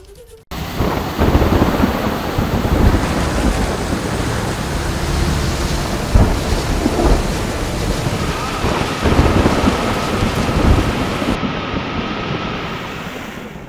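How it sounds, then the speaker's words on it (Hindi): Heavy monsoon rain pours steadily in the hilly Uttarakhand region, a dense continuous roar with low rumbles of thunder rolling underneath, loud and close throughout with no voices. "उत्तराखंड समेत कई पहाड़ी इलाकों में बारिश की मार दोहरी हो गई है"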